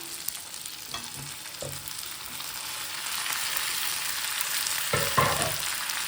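Tomatoes and coriander sautéing in a pan for chutney, a steady close sizzle with a few scraping stirs near the start and end, loud and unbroken with no voices.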